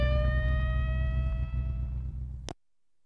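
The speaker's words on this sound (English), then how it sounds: "That siren was like the most depressing siren I've ever heard in my life" A police car siren sounds in the video game Cars Mater-National. It holds one steady electronic tone, loud and unchanging, then cuts off abruptly into silence.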